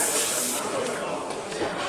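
An airbrush sprays Mission Models paint at fairly high pressure onto a large steel model, giving a steady, close, broad hiss that runs through the whole stretch with slight variations.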